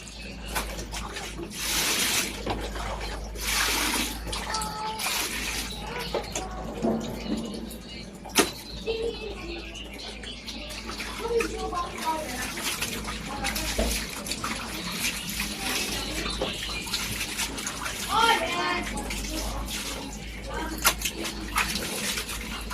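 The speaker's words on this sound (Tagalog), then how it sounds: "Nag-agas ang tubig dyan." Water pours and splashes steadily, like a tap or basin running in a home during a family dinner gathering, with voices murmuring and occasional knocks and clatters around it.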